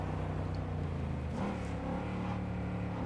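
Car in Cyberpunk 2077 driving at full throttle, a sustained engine roar with a pitch rise and shift partway through, steady and fairly loud with no talk.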